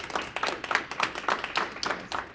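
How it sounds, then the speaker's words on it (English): Studio audience applause, a steady bed of many hands clapping at moderate level, continuous and unbroken throughout with no voices over it. "Can you give an applause for Julie here?"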